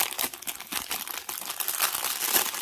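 A parchment paper pocket in a handmade gothic journal crinkles and rustles continuously as it is handled, close and fairly loud with no talking.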